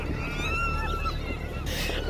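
Seagulls calling as a flock on Brighton Beach, several overlapping squawks and cries over steady wind and surf noise, fairly close.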